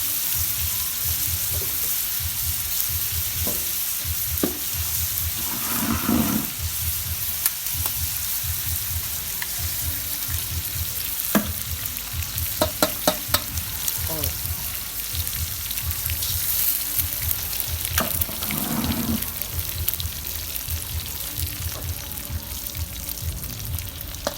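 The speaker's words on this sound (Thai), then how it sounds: "ผัดกุ้งให้สุกแป๊บหนึ่งนะก่อนที่จะใส่ไข่นะจ๊ะ" Shrimp stir-fried in a hot pan for shrimp fried rice, a continuous loud sizzle with repeated rhythmic scraping and tossing strokes of a spatula and occasional sharper clacks against the pan.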